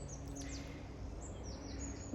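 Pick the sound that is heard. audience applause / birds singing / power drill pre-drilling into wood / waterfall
birds singing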